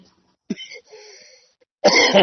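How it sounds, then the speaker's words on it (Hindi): A single short cough near the start, then a quiet stretch of soft sounds before a louder, harsher burst like a heavy cough or throat clearing at the end. "मेरे थोड़ा खांसी है"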